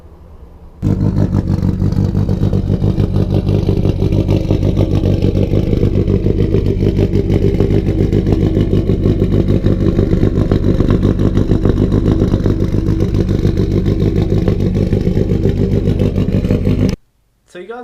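A cammed engine in a Nissan Silvia S80 drift build idles loudly and lumpily up close, its heavy rhythmic chop running steadily for about sixteen seconds before cutting off abruptly.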